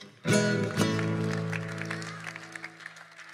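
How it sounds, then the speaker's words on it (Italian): Applause from an audience breaks out suddenly and continues steadily, loud at first and gradually thinning out. "Prendiamoci gli applausi tutti e due"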